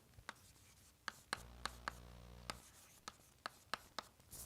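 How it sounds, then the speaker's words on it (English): Chalk or marker on a board in a doctoral lecture on partial differential equations, tapping and scratching in short, quiet strokes with irregular clicks, heard close in an otherwise hushed room alongside a steady low hum. "So our first attempt to write"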